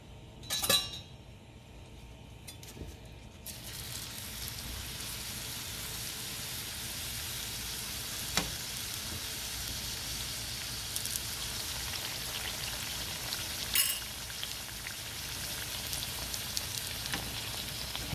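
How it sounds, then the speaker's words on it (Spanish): Potato taquitos frying in oil, with a steady crackling, rain-like sizzle and occasional clinks of a utensil. "Y ya lo ponemos a dorar en el aceite."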